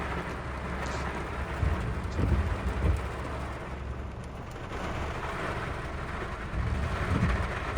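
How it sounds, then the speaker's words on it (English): Torrential downpour on a farm during lambing season, a dense continuous roar of heavy rain with low rumbling swells, steady and loud with no voices. "we are just on the afternoon checks and have had a torrential downpour"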